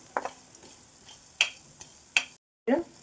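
Chana dal and coriander seeds dry roasting in a pan, with several sharp scraping and rattling strokes as they are stirred over a faint background hiss, one brief silent gap near the end.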